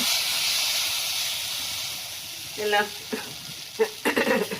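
Hot oil hisses and sizzles steadily in a pan while chitoi pitha is being made, with a few sharper crackles and spatters near the end.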